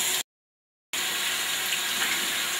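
Water runs from a bathroom sink tap into the basin in a steady, close gush that starts after a brief silent gap and continues evenly to the end.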